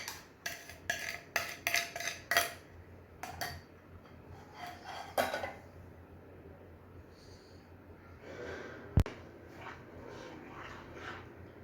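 A spoon stirs sugar into milk in a pot, with a run of sharp clinking taps against the metal early on, a few more later, and a loud single knock near the end.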